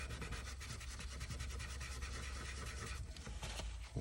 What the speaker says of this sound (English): I'm going to blend it in with my paper towel.